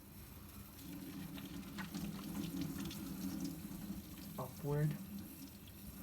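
Running tap water during surgical hand scrubbing, a steady low wash of water over a basin that continues under a voice giving instructions.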